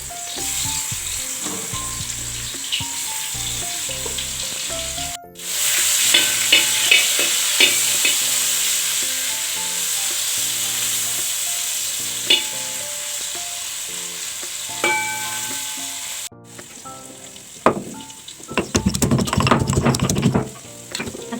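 Cauliflower and potato pieces fry in hot oil in a pan, a loud continuous sizzle broken by frequent scraping and clattering stirs of a spatula, with a brief pause and a burst of harsher crackling near the end.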